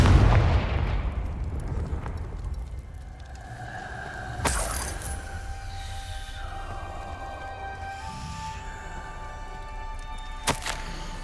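Confringo blasting-spell explosions in the video game Hogwarts Legacy: a heavy boom opens, then a sharp crack and rumble follow midway, with shattering debris, ringing tones and another sharp burst near the end.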